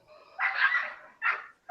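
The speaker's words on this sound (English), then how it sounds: "There's a dog outside." A dog barks outside, two loud distinct barks close together, the first longer, with a faint start of another at the very end and no talk.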